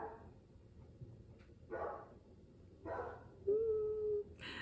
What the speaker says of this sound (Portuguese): Cheio de cachorro latindo